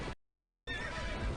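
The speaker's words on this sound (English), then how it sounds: "Horse named Hank" A horse whinnies in a Super Bowl commercial, the loud neigh cut off by a half-second gap of silence, then returning with a long wavering call over low clatter.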